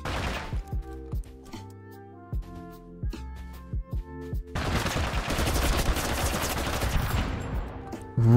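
Video game gunshots, first several sharp single shots at an uneven pace, then a dense, sustained burst of rapid fire that fills the rest of the clip.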